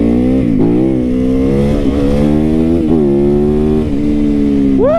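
A track-oriented sport motorcycle is ridden on country neighborhood roads, its engine loud and close with a rising and falling drone as it accelerates and shifts through gears.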